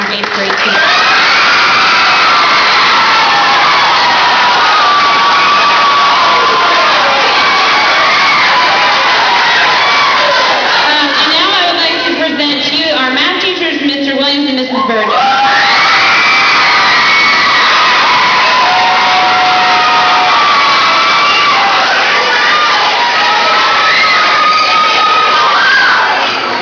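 A school audience at an 8th grade awards ceremony screams and cheers loudly and continuously, a dense roar of young voices that dips briefly before surging again, with a speaker's voice partly heard through it.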